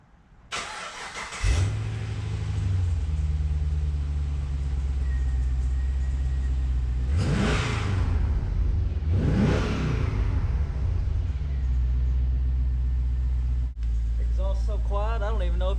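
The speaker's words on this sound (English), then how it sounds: "I say we get this morning started off right with a cold start." A Pontiac G8 sedan fires up from a cold start with a sharp catch, settling into a deep steady idle broken by two rising-and-falling revs; quiet, under occasional talk near the end.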